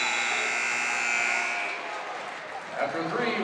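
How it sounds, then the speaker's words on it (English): Buzzer sounding at the end of the third quarter in a varsity high school basketball game in a gym, a steady loud tone lasting about a second and a half before giving way to crowd noise and a commentator's voice. "Get it at the buzzer."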